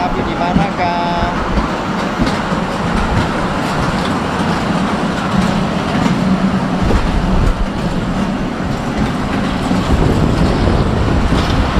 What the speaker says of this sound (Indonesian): Oke, kita naik kereta api